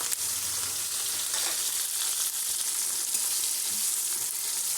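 Onion and curry leaves frying in oil for a ridge gourd and lentil curry, an even close sizzle with a few faint stirring touches and no talk.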